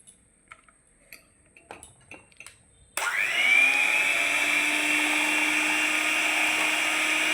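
A blender grinds sago, ice, milk powder and condensed milk for a rose milkshake, starting abruptly after a few soft clicks and settling into a loud, steady high whine that runs to the end with no talking.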